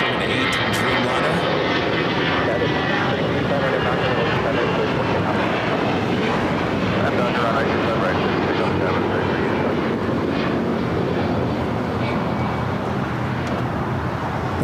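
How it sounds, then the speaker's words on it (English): A Boeing 787-8 Dreamliner arriving from Tokyo Haneda at LAX gives a continuous loud jet engine roar, with voices talking faintly underneath. "That Dreamliner just coming in from Tokyo."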